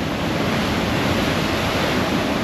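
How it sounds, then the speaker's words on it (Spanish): Strong ocean surf rolls in at Pie de la Cuesta beach, a dense continuous roar of breaking waves mixed with breeze, loud and close with no pause. "Está fuerte el oleaje."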